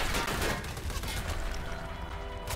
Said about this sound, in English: One dude's still kind of shooting at me